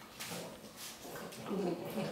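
A three-month-old puppy whimpers softly, thin faint whines and small whiny sounds rising over a quiet room background, with slight breathy noise between them.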